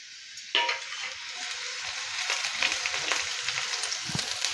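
Vegetables hit a hot pan with a sudden loud sizzle, then keep frying in a steady hiss with faint stirring scrapes, close and without any speech.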